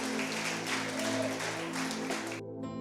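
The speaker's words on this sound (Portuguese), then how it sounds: "aplauda o Senhor bem forte" Church congregation applauding during a sermon, a dense wash of clapping over a steady low hum from the sanctuary's sound system, cutting off abruptly near the end.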